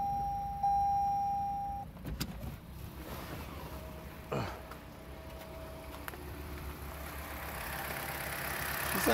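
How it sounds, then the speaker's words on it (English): A 2021 Toyota Corolla engine idles just after an oil change, a steady low rumble running the whole time with a brief starter-like surge near the start and a short burst midway. "Oil's in. Let's start it up real quick."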